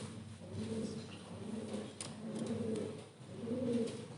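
Racing pigeons in a loft give low, repeated coos in soft rolling phrases, fairly close and steady over a faint background hum.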